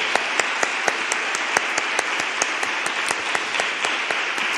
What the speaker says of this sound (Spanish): aplaudimos al Todopoderoso